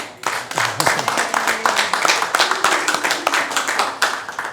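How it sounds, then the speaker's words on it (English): Steady applause at a board of directors meeting, many hands clapping together in a dense, continuous burst that holds strong for several seconds, close and loud. "Big round of applause."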